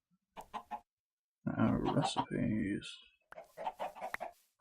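Sand chickens in Minecraft Sky Factory 3 cluck in short, choppy bursts, including one longer loud squawking run in the middle, with a voice speaking briefly over them.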